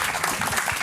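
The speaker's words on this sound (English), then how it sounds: "Big claps." An audience claps loudly in a steady, dense burst of applause at a conference talk, close and brief.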